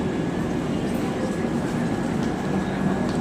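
Train rolling through Tata station on a route toward Rourkela, a steady loud rumble of wheels and carriages with a faint high tone, continuous and close throughout.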